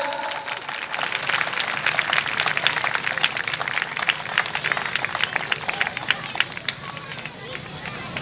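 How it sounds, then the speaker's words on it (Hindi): An audience at a school annual function in Varanasi gives a hearty round of applause, with brisk, dense clapping from many people that holds steady and fairly loud across the whole stretch. "उनके लिए एक जोरदार ताली हो जाए।"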